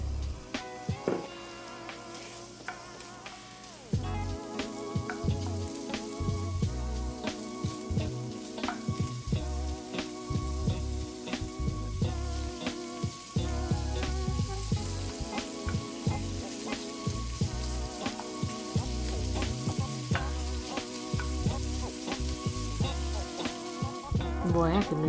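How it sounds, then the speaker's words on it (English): Bacon crackles and sizzles steadily in a large pot over medium-high heat, the close frying noise running for the whole stretch beneath a prominent rhythmic music track with no talk. "Boy, I could listen to bacon cooking all day."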